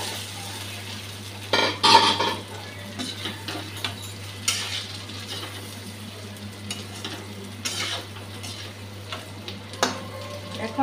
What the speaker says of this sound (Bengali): মশলাটা ভালো করে ভেজে নিয়েছি, এখন দিয়ে দিচ্ছি মুখি কচুকলা